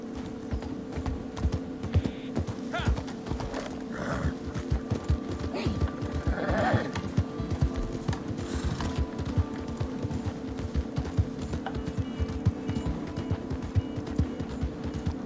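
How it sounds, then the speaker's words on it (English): A horse gallops in Red Dead Online while chasing a wagon, its hoofbeats a quick, steady clip-clop that runs throughout over a low game soundscape. "I literally have a new horse chasing a wagon"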